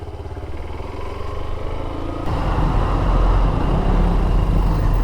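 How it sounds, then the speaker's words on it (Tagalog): Steady engine running of a Suzuki Raider 150 motorcycle, close by and smooth, with no rattle, growing noticeably louder and fuller partway through and holding there. "naging smooth na yun uli yung takbo ng aking motor"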